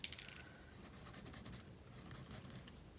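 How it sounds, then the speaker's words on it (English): Pen tip scratching across paper as erasable colored pens write out samples, a soft steady scritching with brief pauses, close and quiet with no talk. "let's go ahead and write all of these out, and then we can see how different colors erase"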